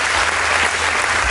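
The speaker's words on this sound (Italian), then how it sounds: "fatevi un applauso" Loud, dense applause from an audience at a fundraising gathering fills the space in a steady, unbroken roar of many hands clapping.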